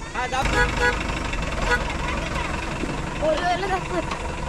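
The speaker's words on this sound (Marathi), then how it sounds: "चला आपला टेम्पो निघालेला आहे." A tempo van's engine idles with a steady low rumble beneath overlapping voices and busy outdoor noise at a traditional Konkan wedding.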